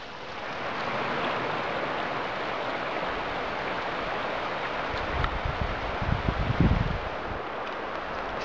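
Steady wind rushes through pine treetops, a broad hiss that swells and settles, with brief gusts and rustling thumps partway through.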